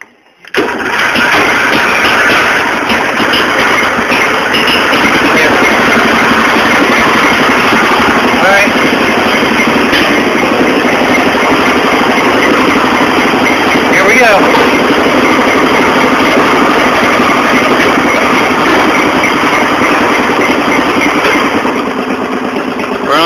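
A mud mower engine runs steadily with the throttle opened up, a loud, constant, buzzing drone held close to the microphone for over twenty seconds after starting.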